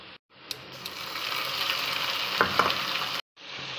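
Ginger garlic paste and chili sizzle and fry loudly in a hot pan, a steady close crackle with a few stirring scrapes, cut by brief silent gaps at the start and end.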